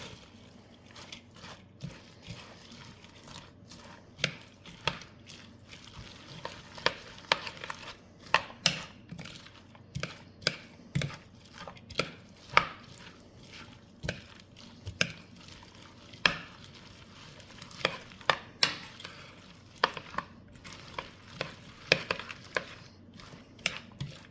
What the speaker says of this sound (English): I'm going to mix this very well.